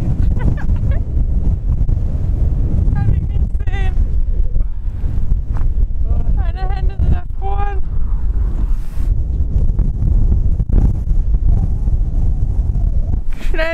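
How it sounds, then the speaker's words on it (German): Strong wind in Iceland buffets the microphone with a constant low roar, and a few brief voices break through the rumbling gusts. "So windig."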